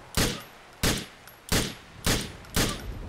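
Gunfire in GTA 4 comes as five loud, sharp shots spaced about half a second apart, each with a short decaying tail, in an even rhythm with near-silence between.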